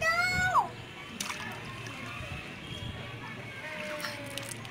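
Water splashing and sloshing during Holi play, with scattered splashes over a steady wet background and children's voices talking nearby.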